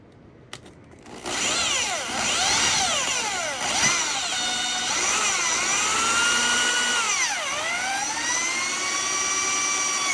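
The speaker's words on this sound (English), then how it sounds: "we're going to use our boring drill bit to open it all the way up to 7/8" A power drill whines loudly and steadily, its pitch rising and dipping repeatedly as a boring bit opens a hole out to 7/8 inch, with a brief click before it starts.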